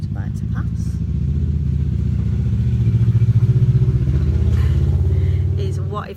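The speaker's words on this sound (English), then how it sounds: "wait for this motorbike to pass" A motorbike passes on a road nearby, its engine rumble swelling to a loud throbbing peak and then fading, with a person talking over it.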